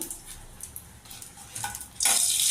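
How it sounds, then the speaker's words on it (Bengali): Two dried red chillies drop into hot oil, with a few soft clinks and stirring sounds before a sudden loud, sustained sizzle erupts near the end and holds steady. "এই দুটো শুকনো লঙ্কা দিয়ে দিলাম"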